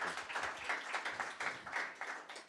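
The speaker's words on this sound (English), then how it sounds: "Let's go for a round of applause." A seminar audience applauds at the end of a talk, a brief, fairly quiet patter of many hands clapping at an even pace with no voices.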